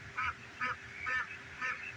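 Ducks honking in a winter chicken run: four nasal honking calls spaced at an even pace, fairly close, over a faint background hum.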